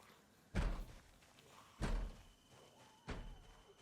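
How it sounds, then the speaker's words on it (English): Three heavy, loud bangs on a door in the Project Zomboid video game, spaced about a second and a quarter apart, each a sharp thudding impact that quickly fades, with faint background ambience between them. "And now the other friend will come bang on this door"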